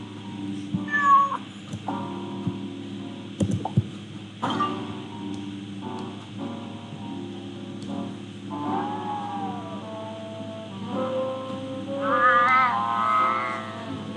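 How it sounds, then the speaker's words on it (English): An angry cat yowls and meows repeatedly in a Nancy Drew video game, with drawn-out wavering cries rising and falling over a steady ambient hum, growing louder and more strained toward the end. "That sounds like one angry cat."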